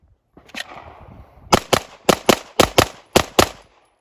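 A Glock 9mm handgun fires about nine sharp, loud, close shots at a shooting range, a lone shot followed by quick pairs in rapid succession, with a brief noisy rustle before the main string.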